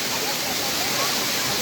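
Heavy rainwater rushes and pours in a steady broadband roar, fairly faint and continuous, with a voice partly audible beneath it.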